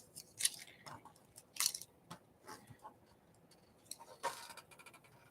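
Scissors cut through paper in short, crisp snips, several sharp clustered cuts spaced irregularly with soft rustling between them, close and quiet.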